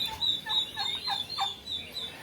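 A turkey gobbles in a series of quick, rattling bursts, close and fairly loud, with no voices around it.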